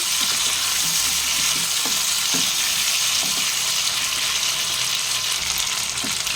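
Potatoes fry in hot oil in a pan for a shrimp, potato and yard-long bean dish, a loud continuous sizzle with occasional stirring scrapes underneath, no talking.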